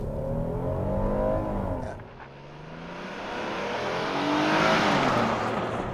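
A 2023 Hyundai Palisade SUV launches hard with traction control off, the engine surging loudly, dipping briefly at a shift, then rising again in a strong, sustained acceleration heard from inside.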